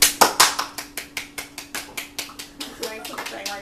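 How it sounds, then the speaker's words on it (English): A small audience gives slow, evenly spaced claps after a student's informative speech, about sixteen distinct hand claps in a steady rhythm that fade slightly toward the end, over a faint background hum. "Clap your hands."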